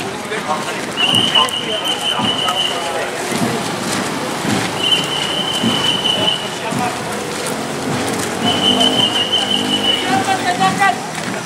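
Horses clip-clopping along a road during a church procession parade, steady hoof beats mixed with crowd chatter, whistles and background noise throughout.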